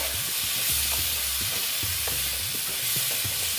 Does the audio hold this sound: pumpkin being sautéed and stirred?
yes